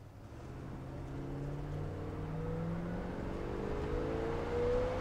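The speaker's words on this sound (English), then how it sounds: "Let's see how the car takes off." A Chrysler Valiant Charger with a V8 engine accelerates, its engine note climbing steadily in pitch and building gradually in loudness, somewhat faint and with no talking over it.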